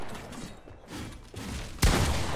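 A pump shotgun fires in the Fortnite video game: one sharp, loud blast stands out near the end over low game background noise.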